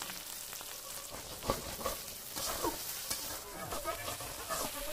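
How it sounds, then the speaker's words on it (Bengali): Four eggs dropped into a little hot oil in a pan for chicken fried rice fry with a soft, steady sizzle, broken by a few scraping and stirring knocks, close up with no one talking. "তেল দিয়ে এতে ছেড়ে দেব ডিম আমরা অ্যাড করেছি 4টি"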